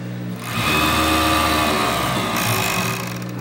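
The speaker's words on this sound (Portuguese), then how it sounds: "Eu vou costurar ele assim." A sewing machine stitches a knitted cuff for a child's cardigan, starting after a short pause into a loud, close, steady mechanical whirring of rapid needle strokes that runs on for a few seconds, with no talking.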